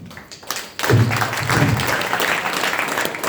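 Applause from the audience at a comic kirtan in a village, a burst of clapping rising after a brief pause and carrying on steadily, with a voice faintly underneath.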